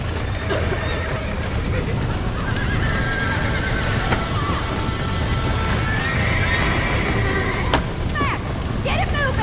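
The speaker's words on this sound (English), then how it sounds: "Now let's save the horses!" Horses in the Red Dead Redemption video game whinny and neigh repeatedly while hooves clip-clop steadily, set against background game noise and a voice talking.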